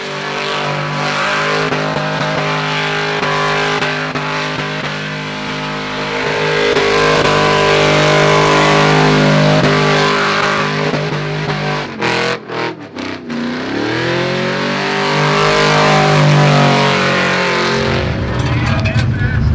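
A Holden screams through a burnout, its engine held at high, wailing revs for long stretches. It dips and stutters briefly midway, then climbs again to a loud sustained howl, with voices audible faintly underneath.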